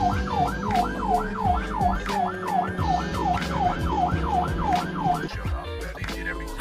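An ambulance siren wails in steady, rapid up-and-down cycles amid road traffic, loud and close, with a Mercedes tailgating it, before cutting off near the end.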